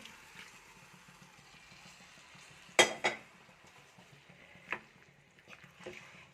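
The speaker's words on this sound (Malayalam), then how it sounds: "ഞാൻ വേവിച്ച് വെച്ചിരിക്കുന്ന നമ്മളുടെ ബീഫ് കൂർക്കയും ഇതിലോട്ടാണ്ട് ഇട്ട് കൊടുക്കുകയാണ്" Cooked beef and Chinese potato tipped into masala in a pan, with a few sharp clatters and scrapes of food and utensil against the pan over a low background hum, with no voices.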